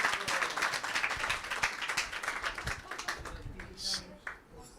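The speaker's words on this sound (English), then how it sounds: "Applause for that." Audience applause at a devotional gathering in a temple hall, a steady patter of hand clapping that fades out partway through, with some voices mixed in over it.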